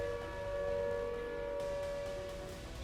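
War sirens in Muridke wail steadily with a sustained, slightly wavering civil-defense tone, loud and continuous against background rumble.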